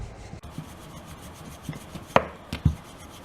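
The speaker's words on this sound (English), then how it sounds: "I'll toss this in dry whole wheat flour and roll this evenly." Paratha dough being tossed and rolled in dry whole wheat flour, heard as soft rubbing and dull pin knocks on a board, quiet and close, with a couple of sharper thumps near the end.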